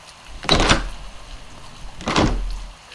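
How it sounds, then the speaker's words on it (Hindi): Windows along a hospital corridor bang open for a horror effect: two loud, sharp swinging rattles about a second and a half apart, close and alone. "कॉरिडोर की सारी खिड़कियां एक साथ खुल गई।"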